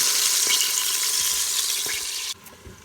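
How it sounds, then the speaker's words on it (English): A piece of pork sears in a hot pan, giving a loud, steady sizzle that runs close up and then cuts off sharply near the end, with a few faint clinks underneath. "I'm just waiting on this third piece to finish searing."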